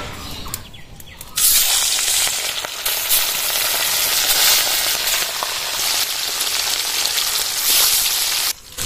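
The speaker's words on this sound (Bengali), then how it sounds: "ম্যারিনেট করা মাছগুলো আমি কড়াইতে দিয়ে দেব।" Marinated katla fish pieces, with a green chili, frying in mustard oil in a kadai for doi katla: a sudden loud, dense sizzle bursts in after a quieter start and crackles steadily up close, with no talk.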